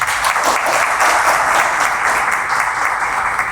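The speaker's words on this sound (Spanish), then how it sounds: "Ignacio Pascual Camacho Hidalgo, con sus aplausos." Loud, dense applause from an audience at a formal legal lecture event in the Dominican Republic, continuous clapping sustained evenly throughout without any talking over it.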